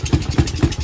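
A Yamaha TTR-90 dirt bike engine that starts but struggles to keep running chugs close by, throbbing in a quick, uneven rhythmic pulse over just under a second.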